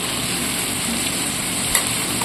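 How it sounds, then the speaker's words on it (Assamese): Pork fries in hot oil with a tomato-onion paste, giving a steady, close, even sizzle throughout with a small clatter near the end and no talking. "তিল দিয়া গাহৰিৰ কাৰণে মাংস ভাজি থকা হৈছে"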